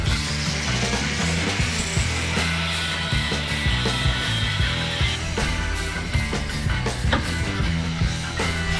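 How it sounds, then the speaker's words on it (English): Saw cutting off bar pins on a Jeep TJ/LJ suspension during a long-arm install, a loud, continuous grinding rasp with no pauses, close up and with no voices. "I'm just going to cut the bar pins here and here, get them out of my way"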